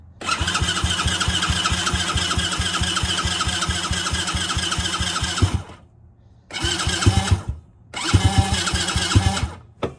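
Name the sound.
X-Pro 110cc kid's ATV engine cranking and starting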